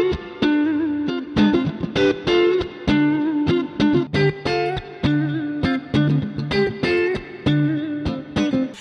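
Electric guitar, a Clifton Maestro Stratocaster with bridge and neck single-coil pickups combined, has a clean, slightly hollow tone, playing rhythmic chords and short riffs with staccato breaks, loud and close.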